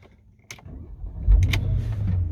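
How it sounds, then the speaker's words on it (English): Porsche Panamera fitted with a Starline i96v2 immobiliser starting after code entry: a couple of short electronic chirps, then the engine cranks and catches into a steady, close idle rumble. "So now ignition on, new code, receive our melody, and start the vehicle."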